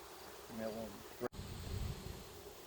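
Honey bees buzzing at a hive during a fall inspection, a soft continuous drone with a brief louder close pass, heard faintly against outdoor background.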